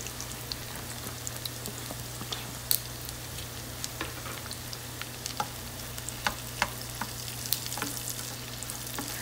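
Garlic, ginger and onion sauté in hot oil in a pan, giving a continuous soft sizzle with scattered crackles and the occasional scrape of stirring, close by and fairly quiet.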